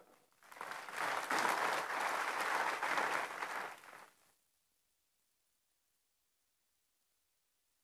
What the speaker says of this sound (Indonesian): Boleh kalau mau tepuk tangan.